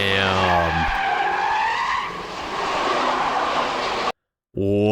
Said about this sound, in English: And boy, can that do a few burnouts.